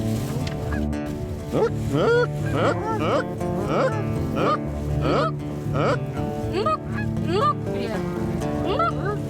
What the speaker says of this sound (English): Here comes two geese right in.